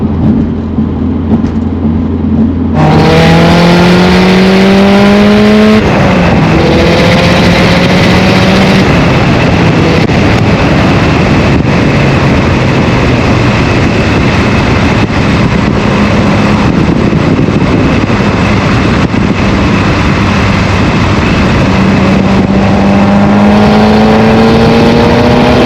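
A modified Subaru STI engine revs hard and loud, its pitch climbing and falling through several sharp throttle blips before settling into a rough, rumbling idle, then rising again near the end.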